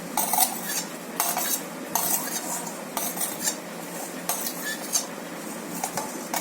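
Cucumber being mixed in a bowl with a spoon, giving repeated clinks and scrapes against the bowl in irregular bursts, close and fairly clear with no talking.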